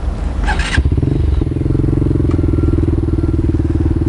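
A learner motorcycle on a CBT training course, its engine settling into a steady, close, throbbing idle after a brief clatter at the start.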